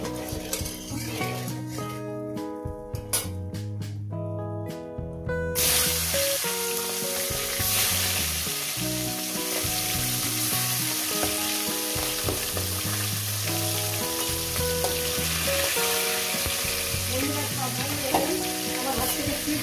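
Rohu fish heads dropped into hot oil seasoned with salt and a little turmeric, producing a strong, steady sizzle and crackle, with occasional utensil clinks and background music throughout.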